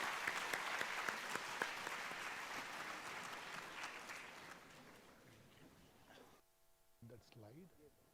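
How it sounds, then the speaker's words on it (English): Audience applause at a conference for CA students, a loud sustained round of clapping that gradually fades out, followed by brief talk near the end. "A huge round of applause, ladies and gentlemen."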